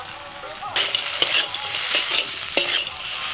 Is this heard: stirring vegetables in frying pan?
yes